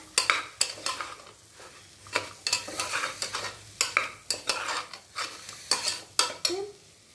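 Vegetables for veg kurma are stirred and sautéed in a pan, a spoon scraping and clanking against the metal in repeated strokes over a low sizzle, close and alone with no talk.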